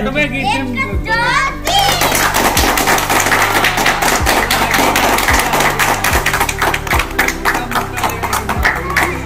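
Hand clapping at Barsopani in Hazaribagh, steady repeated claps heard alongside a crowd of voices and children talking, continuing throughout.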